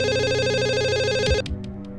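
A telephone rings at a police station, a continuous electronic warble that stops abruptly and leaves a few fading tones.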